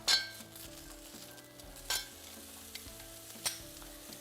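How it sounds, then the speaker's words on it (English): A few onion slices sauteing in about half a tablespoon of olive oil, a soft low sizzle broken by several clear clinks and scrapes of a utensil against the pan. "I added olive oil, about half a tablespoon, and now I have added just a few slices of onion to saute it."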